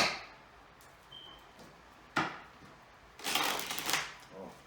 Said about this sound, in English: I'll give it a couple more shuffles on camera